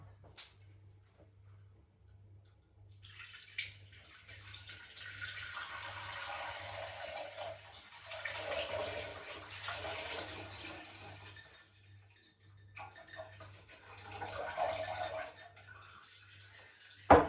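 Homemade citrus vinegar is poured gently through a sieve into a bowl, making a soft, steady trickle of liquid that runs for several seconds, pauses, then resumes briefly. A faint low hum sits underneath.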